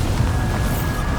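A Confringo fire spell explodes in the Hogwarts Legacy video game, giving a dense, continuous booming rumble that stays loud and steady throughout with no voices.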